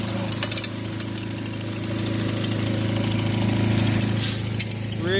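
The motor of a dry washer for prospecting runs steadily, a medium-close mechanical drone with a constant low hum and faint rattling, unbroken and without talk.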